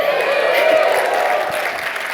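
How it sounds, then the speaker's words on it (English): Keynote conference audience cheers and applauds on request, a loud swell of clapping and whoops that holds steady and tapers slightly at the end. "can I hear one more time, just to cheer?"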